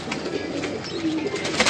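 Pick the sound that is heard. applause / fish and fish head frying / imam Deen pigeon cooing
imam Deen pigeon cooing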